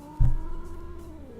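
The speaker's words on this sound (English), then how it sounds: "Why you meow like this? Why you get so mad all the time, huh?" A single short, low cat yowl, sharp at the start and then trailing off over a steady background hum.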